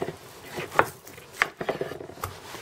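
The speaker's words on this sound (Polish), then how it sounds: "Kroję na takie grubsze kawałki." A knife cutting meat into thick strips about 2 cm wide, giving a few separate soft cuts and taps on a board, close and fairly quiet.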